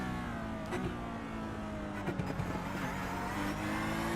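Simulated GT race cars run at Imola in iRacing sim racing, with engine notes rising and falling as several cars run nose to tail. Rough revving and passing sounds continue throughout with no talk.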